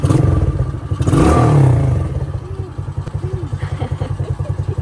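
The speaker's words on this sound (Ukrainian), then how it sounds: "І на нейтрал ти можеш газанути, так?" Children's quad bike engine revving in neutral, a loud close low pulsing drone that swells for about a second, then settles into a steady rapid idle chug.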